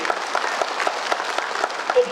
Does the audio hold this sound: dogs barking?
no